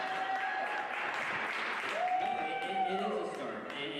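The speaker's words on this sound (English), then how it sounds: "Thank you for the claps." Audience at a live New Year anniversary show clapping, a short burst of applause mixed with voices, moderately distant and fairly soft.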